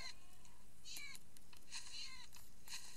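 Cats meow in a video game, several short, bright, high-pitched calls rising out of a constant loud hiss of game and background noise, with no clear talk over them.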